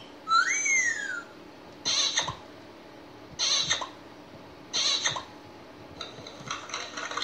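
A rising-falling wolf whistle rings out, followed by three short bright bursts of chirpy, squeaky sound at regular intervals, fairly close.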